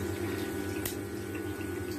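Hot water tap running steadily in a home during a Potterton Promax Combi 24 HE boiler service, a continuous close rush of flowing water with a low mechanical hum beneath and one brief sharper splash partway through.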